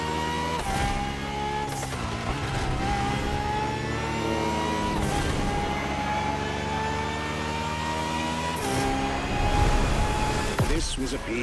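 A Ferrari FXX-K engine in the racing game The Crew Motorfest drones loudly and steadily with shifting pitch, swelling to a brief rev near the end.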